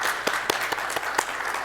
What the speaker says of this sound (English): A round of applause for our young investigator.